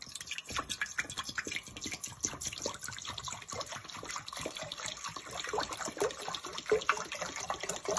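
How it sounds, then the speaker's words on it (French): Water is poured into a pot to cook whole millet porridge, a steady close splashing and trickling stream that runs without pause for several seconds, with no talking. "Je mets l'eau."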